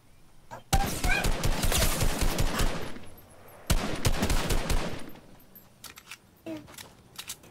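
Rapid bursts of automatic gunfire in the battle royale game Fortnite, two long sustained volleys followed by a few scattered shots, loud and close.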